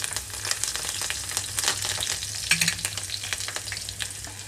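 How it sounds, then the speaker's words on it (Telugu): Mustard seeds, cumin, dried red chillies and small garlic cloves frying in hot oil for a tempering, a steady close sizzle with crackling pops and occasional stirring scrapes. "ఆయిల్ అయితే హీట్ అయిపోయింది. ఇందులోకి నేను ఆవాలు 1 స్పూను, అలాగే జీలకర్ర, ఎండుమిరపకాయలు"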